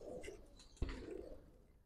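Pigeons coo softly in low murmurs at close range, broken by one sharp knock partway through and fading toward the end, with no talking.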